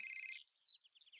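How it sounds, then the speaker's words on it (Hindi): A telephone rings with a bright electronic trill in a Hindi TV serial, a steady ringing tone that breaks into warbling, chirping bursts, heard alone without talk. "अरे किसी का फोन आ गया।"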